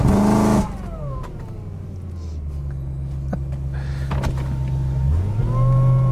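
A supercharged BMW E90 M3 with a Harrop charger and Syvecs ECU revs briefly, then settles into a steady engine drone with whining gear sounds from a misbehaving gearbox, ending in a rising rev.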